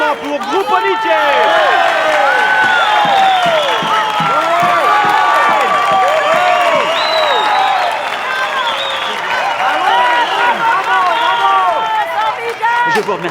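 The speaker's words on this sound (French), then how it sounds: "Merci beaucoup à vous tous pour ces applaudissements si chaleureux." Warm, sustained applause from a large audience, dense clapping with cheers and whoops at steady loudness throughout, with voices heard within the crowd.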